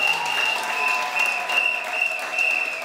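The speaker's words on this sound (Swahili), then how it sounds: "Tumbe Bwana wetu makofi." A church congregation applauds together in a sustained, dense round of clapping with a steady high tone running underneath, close and loud throughout.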